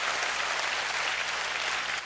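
Dense, steady applause from a seminar audience, a continuous wash of many hands clapping at even loudness with no pauses, close and full.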